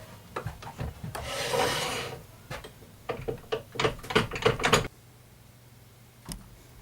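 A woodturning tool scrapes and rubs against the inside of a wooden vase on a lathe, with a longer rasping stretch followed by a string of short, close scraping strokes over a low steady machine hum.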